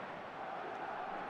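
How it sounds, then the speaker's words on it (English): Stadium crowd noise from the eFootball 2026 football video game, a steady broad roar of many voices with no individual words, held at an even level throughout. "the crowd are reacting to that now"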